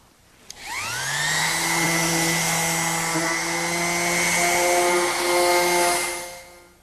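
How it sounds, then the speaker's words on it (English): A power sander whines steadily while fine sanding a wooden drawer knob for a bedside table, starting up with a rising pitch and then holding a loud, even drone close by. "A little bit more fine sanding on this piece and it'll be ready for some finishing."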